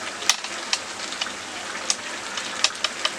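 Chicken curry frying in a pan while its released water cooks off, a steady crackling sizzle with sharp pops scattered throughout.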